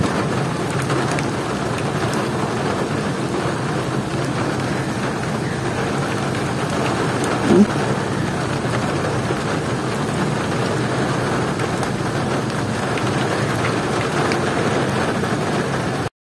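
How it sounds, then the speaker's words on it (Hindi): Steady rain pours down continuously, a dense, even hiss of drops on surfaces with no voices, holding at the same level throughout. "देखिए कितनी मज़े की बारिश हो रही है ना।"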